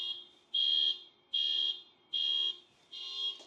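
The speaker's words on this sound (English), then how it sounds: "sorry about that alarm, I don't know if my mic will pick it up, but it's ear-piercingly loud" An ear-piercing alarm beeps in four even, high-pitched pulses about a second apart, steady and alone with no talk.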